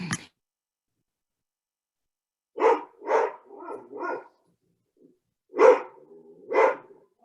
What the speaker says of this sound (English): we have an excited puppy over there